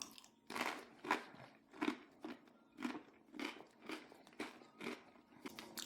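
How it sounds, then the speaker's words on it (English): Close, crisp crunching as a seeded multi-grain cracker topped with cheese is bitten and chewed, with about eight to ten evenly spaced crunches and no talking. "I'm going to try it on this multi-grain cracker with seeds and things."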